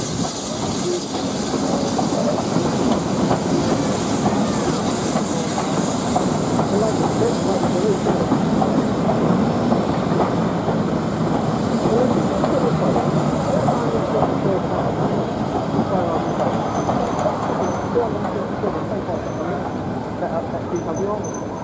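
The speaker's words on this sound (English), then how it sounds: "214 now arrives into Cornham Woodhouse Station with a train bound for Loughborough." Locomotive 214 pulls a train bound for Loughborough into Cornham Woodhouse station on the Great Central heritage line, producing a continuous close rumble with wheel clatter, hiss and faint squeal throughout.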